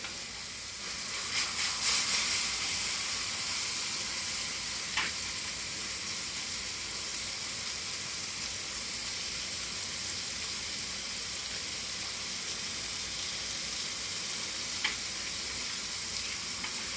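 Beef searing on a hot grill at a smokehouse, a steady hissing sizzle that swells louder early on, with a couple of faint clicks, no voices.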